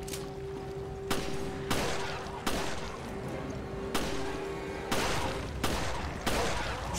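Pistol gunfire from the video game Resident Evil: Revelations: about seven sharp shots at irregular intervals over a continuous game soundtrack hum, with a brief spoken word.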